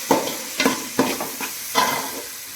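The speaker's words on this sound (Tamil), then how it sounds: "இப்போ வந்து நல்லா தக்காளி நல்லா வதங்கிட்டு கருவேப்பிலையும் கொத்தமல்லியும் போட வேண்டும்" Tomatoes sauté in a pan as a spoon scrapes through them in four distinct strokes over a low sizzle, close up and without speech.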